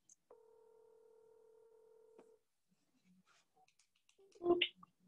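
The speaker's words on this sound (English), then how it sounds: "Let's see if we can get her on the phone now" A phone call is dialed: a steady tone holds for about two seconds, then a few faint clicks and beeps follow before a short, louder burst of sound. The call is placed to a cousin during a casual show.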